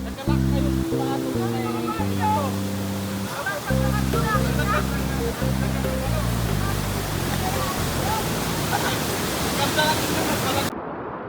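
Steady rushing water pours continuously over rocks, loud and close, with a melodic musical line layered over it before cutting off abruptly.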